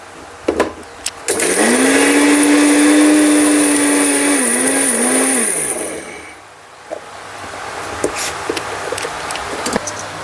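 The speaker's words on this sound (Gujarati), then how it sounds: "એમાં એલચી ભેગી નાખી અને દળું" An electric grinder whirs steadily as it grinds sugar together with cardamom for churma modak laddu, a loud sustained motor drone with a pitch that wavers near the end before cutting off, followed by quieter handling clatter.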